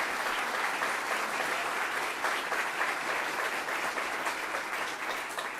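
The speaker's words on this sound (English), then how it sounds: "Let's give him a round of applause for the great work he does" Steady, even audience applause at a renewable energy announcement by the New York governor, a crowd clapping continuously for a climate advisor, moderately distant and without talk.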